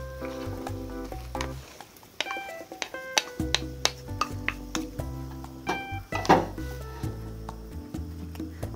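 A utensil presses and mashes ingredients in a pot of simmering dried pollock, soft tofu and perilla soup, giving close, irregular taps and soft scrapes against the pot over a sustained musical background.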